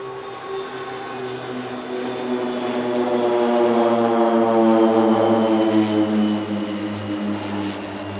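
Eight Pilatus PC-7 propeller training aircraft of the Swiss Air Force passing at an airshow in Leszno, a loud steady propeller drone with strong harmonic tones that swells toward the middle and holds, no talk over it.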